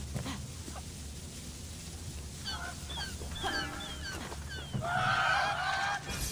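Repeated honking, clucking fowl calls in the video game Immortals Fenyx Rising, several short calls scattered over a steady ambient bed, with a louder, denser bird outburst near the end; no talk.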